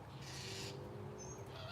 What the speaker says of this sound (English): the birds are amazing this morning